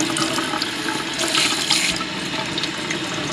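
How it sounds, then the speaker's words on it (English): Water sprayed from a handheld sprayer to rinse coffee scrub off skin, a steady hissing splash with brief louder bursts, close and continuous. "we're just going to take the spray thing and just kind of rinse it off."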